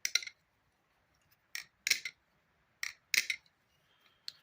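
Machinewise Seropus balisong butterfly knife is flipped, producing crisp, bright metallic clicks and clacks in short clustered bursts separated by quiet pauses, close and clear.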